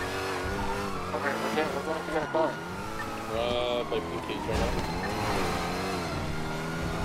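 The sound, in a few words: car driving and tire skidding in video game GTA V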